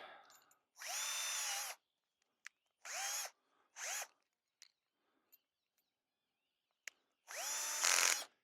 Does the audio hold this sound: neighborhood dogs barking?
no